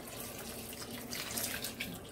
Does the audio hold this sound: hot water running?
yes